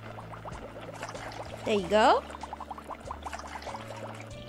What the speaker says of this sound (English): Use a steady hand and pour the vinegar in.